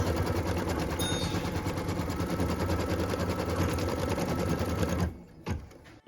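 An embroidery machine stitches a placement line onto stabilizer with a steady, fast mechanical chatter for about five seconds, close and continuous, then stops with a few clicks.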